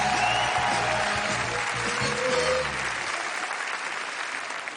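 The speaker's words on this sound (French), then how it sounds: "On peut les applaudir" A studio audience at a hypnosis show applauds steadily, dense clapping filling the space, with a voice over the start before the clapping carries on alone and slowly fades.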